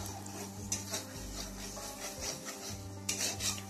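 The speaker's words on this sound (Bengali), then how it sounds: "মশলাটাকে সুন্দর করে কষিয়ে নেব" A spatula stirs and scrapes spice paste frying in oil in a pan for a katla fish curry, giving soft, continuous rubbing and scraping sounds close by with faint sizzling underneath.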